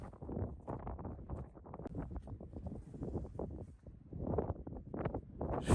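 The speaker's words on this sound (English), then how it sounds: "Just feel the wind absolutely ripping up from down there." Strong wind at an abandoned slate quarry, blustery buffeting gusts loud against the microphone, rumbling and rustling continuously throughout.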